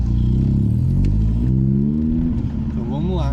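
A 2003 VW Gol Power with a straight-pipe exhaust revs loudly and close, its raspy engine note rising and falling, with someone talking over it.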